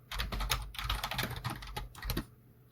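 Typing Java code on a computer keyboard: a quick, steady run of close, crisp key clicks for a couple of seconds, ending in a brief pause, with no voice over it.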